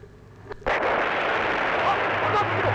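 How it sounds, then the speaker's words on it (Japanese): A sudden loud explosion at a cartoon race hits after a brief quiet moment, then a sustained roaring blast and rumble fills the scene. "あっ、爆発事故、事故です。"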